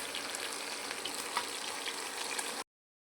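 Viraal fish fry in hot oil with a steady, close sizzle and crackle that runs for over two seconds and then stops abruptly.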